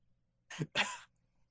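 Two quick, close coughs in succession, the second slightly longer, then quiet.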